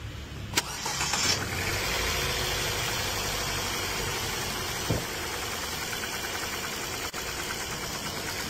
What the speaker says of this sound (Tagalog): Kailan pa yung ganyan tunog siya, yung engine niya?